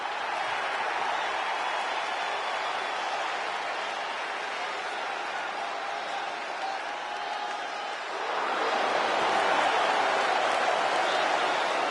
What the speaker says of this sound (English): The crowd welcomes a woman who's battled back for moments like this.